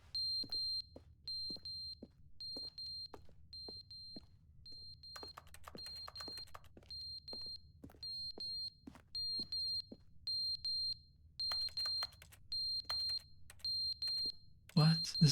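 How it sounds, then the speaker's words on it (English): An alarm in the video game Stanley Parable Ultra Deluxe beeps in short, evenly spaced high pulses that repeat steadily, with faint clicks and typing-like taps around it. "Wait, what is beeping?"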